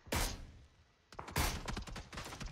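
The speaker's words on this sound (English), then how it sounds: "Somebody else is shooting" Gunfire in the battle royale game PUBG: two bursts of rapid shots crack out, a short volley first and then a longer rattling string after a brief pause, fairly close and with no talking over them.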